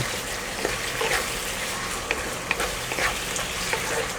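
Chicken with lemongrass and oyster sauce stir-fries in a hot pan, giving a constant close sizzle broken by occasional sharp clicks and scrapes of the spatula against the pan.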